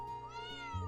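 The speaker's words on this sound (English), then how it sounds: "Hey, kitty." A cat meows in Trails of Cold Steel 4, a single drawn-out rising and falling meow heard up close and clearly, with soft game background music underneath.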